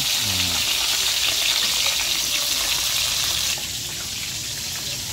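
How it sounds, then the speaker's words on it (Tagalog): Fish frying in hot oil gives a steady, close sizzle with a few light clinks at the start, then drops slightly in level partway through. "Ang ganda ng pagkakaprito."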